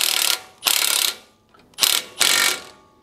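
Two pairs of loud, close impact wrench bursts drive the nut onto a lower control arm bolt on a Nissan Titan or Armada, with short pauses between them.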